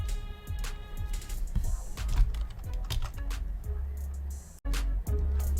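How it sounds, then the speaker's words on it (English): A computer keyboard's spacebar is hammered rapidly and repeatedly during a Black Desert Online enhancement session, giving dense clattering key hits close to the mic, with a brief gap near the end before the tapping resumes. "You just smash your spacebar open."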